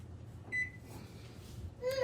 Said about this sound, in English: I'm going to set a timer for 6 minutes